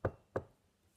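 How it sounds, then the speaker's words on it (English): Two sharp knocks on a cafe window, close and crisp, about a third of a second apart, with quiet after. "Shaggy Dog knocked on the window of Merv's cafe."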